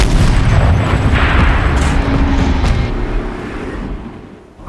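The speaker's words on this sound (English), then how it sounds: "Rotate turret! And fire!" A heavy turret fires in Horizon Zero Dawn, a loud booming blast with a long rumbling tail that fades out gradually, ending in a quieter pause and a small final thump.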